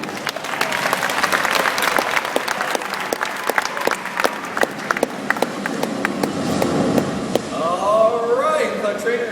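Audience applause at an aquarium beluga and dolphin show, a steady crowd clapping with sharp individual claps standing out, continuing for several seconds before dolphin-like whistles and chatter emerge near the end.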